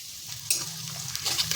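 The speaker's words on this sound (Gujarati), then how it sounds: "તો હવે આપણે એક મીડિયમ સાઇઝની ઝીણી સમારેલી ડુંગળી એડ કરીશું." Finely chopped medium onion frying in oil on a medium flame for methi shaak, a dense steady sizzle with crackles and stirring scrapes, close and fairly loud, no talk.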